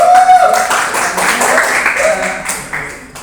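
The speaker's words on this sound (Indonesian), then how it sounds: "Boleh berikan tepuk tangannya dulu." An audience at a student group presentation on motor learning claps for a few seconds in a dense, steady burst of applause that gradually fades, with a voice briefly audible over it.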